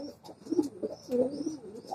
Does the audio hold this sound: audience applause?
no